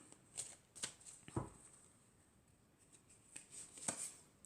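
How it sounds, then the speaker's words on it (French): Fortune-telling cards being drawn and shuffled in a quiet room, producing soft separate flicks and slides at an irregular pace with one firmer slap, faint and close, with no talking. "Alors je vais prendre encore 4 cartes."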